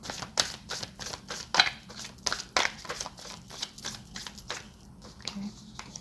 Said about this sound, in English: I give it one more shuffle.